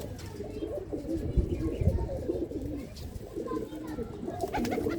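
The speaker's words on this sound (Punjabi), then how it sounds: "ਕਾਲੀ ਪੂਛ ਦਾ ਕਬੂਤਰ ਆ ਬਈ ਇਹ" Black-tailed pigeon cooing in soft, low repeated coos through the clip, with other birds and a voice talking faintly underneath.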